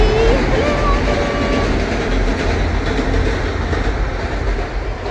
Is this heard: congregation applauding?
no